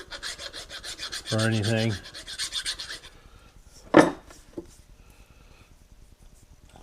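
A file rasps across a machined steel milling-table clamp to remove burrs, steady scraping strokes for about three seconds, followed by a sharp metallic knock and faint shop noises, with brief speech.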